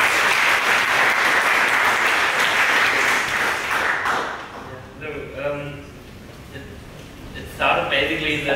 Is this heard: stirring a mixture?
no